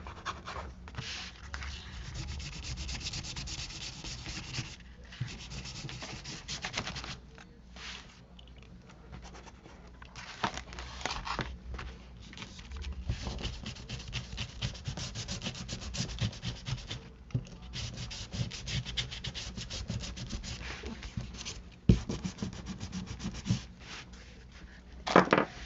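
Steady close rubbing and scrubbing as ink is worked onto the cut edges of paper for a file folder craft, a continuous scratchy friction in uneven strokes with brief pauses and no talking.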